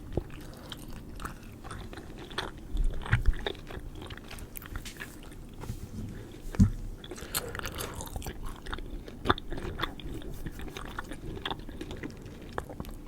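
Close, soft chewing and crunching of candy with a full mouth, with wet mouth sounds and occasional sharper bites spread over a quiet background in an ASMR setting.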